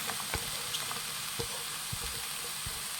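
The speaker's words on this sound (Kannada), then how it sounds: "ಈಗ ಇದು ಎಣ್ಣೆಯಲ್ಲಿ ಫ್ರೈ ಮಾಡಬೇಕು ಫ್ರೆಂಡ್ಸ್" Vegetables sizzling in hot oil for Bansi rava vegetable upma: a steady, close hiss of frying with scattered soft taps and scrapes of stirring, no talk.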